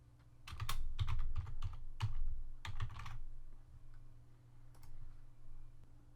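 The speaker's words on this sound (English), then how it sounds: "type the domain name." Typing a domain name on a computer keyboard during Windows Server 2012 R2 setup: quick bursts of close, crisp key clicks for about three seconds, then a few scattered single taps over a steady low hum.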